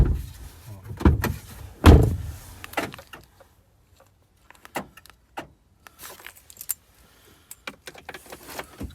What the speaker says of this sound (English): Chris, do you want to jump in so we can actually shut that door or not really?